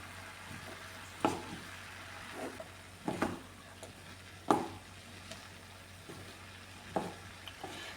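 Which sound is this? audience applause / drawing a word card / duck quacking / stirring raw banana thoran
stirring raw banana thoran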